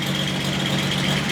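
A Datsun 240Z engine that had sat unused for years runs steadily on a fuel pump, a continuous close idle with a faint rattle and no voices.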